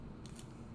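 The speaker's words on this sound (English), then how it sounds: "I can see I need to trim off a little bit of that" Scissors snip through a cardboard box, a brief crisp cut over a steady low hum, close and alone with no talk.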